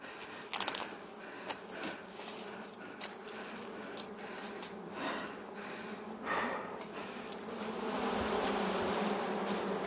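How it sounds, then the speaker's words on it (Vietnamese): Dwarf honey bees buzz around their nest, a steady insect drone with sharp close passes and a swelling hum toward the end, with no talk. "mọi người xem này cái tổ ong nó đóng cái kèo trời ơi bằng to hơn hai ngón tay"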